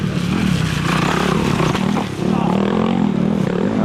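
A KTM motorcycle revs at a raceway, its engine droning loud and close with a brief dip mid-way before picking back up, clattering mechanical noise mixed in.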